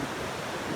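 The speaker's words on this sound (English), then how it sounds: "Enjoy the beautiful ocean." Ocean surf washes in at San Buena Ventura Beach, a broad, steady hiss of waves mixed with wind buffeting the microphone, loud and close with no voices.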